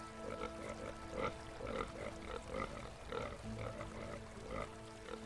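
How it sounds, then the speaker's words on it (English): Pigs grunting in the video game The Necromancer's Tale, a steady run of soft, close snorts and oinks repeating every half second or so, quiet and with no talk. "I just sit and watch the pigs"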